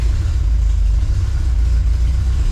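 A supercharged 1971 Volvo 1800E four-cylinder engine runs steadily up close, a loud low rumbling idle with no gear changes or voices.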